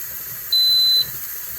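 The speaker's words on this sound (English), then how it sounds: "the pressure canner just beeped" An electric pressure canner, used for canning carrots, gives a single steady electronic beep lasting about half a second, close and clear over a faint background hiss.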